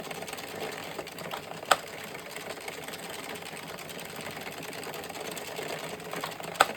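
An Addi/Sentro circular knitting machine works rows of a striped brimless beanie, giving a steady, close mechanical whirring clatter with two brief sharper clicks.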